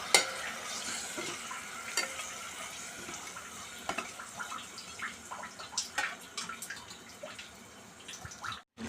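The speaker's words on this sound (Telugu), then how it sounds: "ఈ ఫ్రై అయిన దానిలో మటన్ వేయాలి. మటన్ వేసి ఫ్రై చేయాలి." Mutton pieces fry in a pan of fried masala and are stirred now and then. There is a steady close sizzle with light scraping and clinks of the spoon, and no voices.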